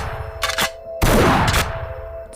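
Gunshot sound effect with two loud, sharp bursts of gunfire, each ringing out briefly over a low background rumble.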